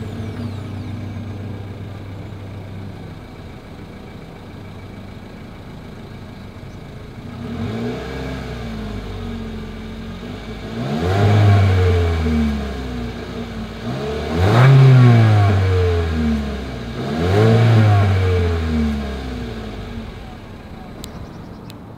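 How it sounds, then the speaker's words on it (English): A 2022 Mitsubishi Eclipse Cross with a single exhaust idles steadily, then revs up in three distinct throttle blips, each rising and falling, recorded close at the rear with no talk. "As always, here is that exhaust clip."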